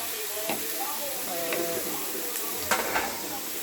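Ginger garlic paste sizzles as it is stirred into a hot pan with cabbage and vegetables for paneer noodles: a continuous frying hiss broken by a few soft scrapes and clinks of the spoon against the pan.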